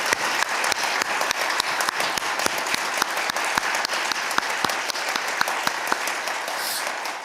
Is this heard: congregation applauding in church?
yes